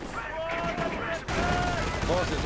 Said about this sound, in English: Grenadiers firing, and we are seeing assault being used.